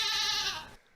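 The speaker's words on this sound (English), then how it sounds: "A downright hilarious little screaming goat." A pressed screaming-goat novelty toy lets out a single loud, nasal bleating yell lasting under a second, then stops abruptly.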